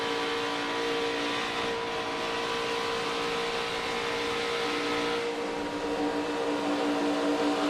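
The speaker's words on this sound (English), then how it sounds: "Listen to him working the throttle." A NASCAR Truck Series race truck at Daytona, heard from on board, its engine droning loud and steady as the throttle is worked, with a slight shift in pitch partway through.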